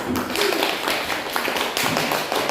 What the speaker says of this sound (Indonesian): Ya, tepuk tangan dulu untuk kelompok 2